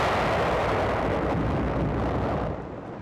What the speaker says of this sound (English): Near another part of the hill, our tanks move forward under heavy fire.